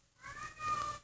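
A house cat lets out a single drawn-out meow, fairly quiet and nearby, rising and falling over about a second with nothing else around it.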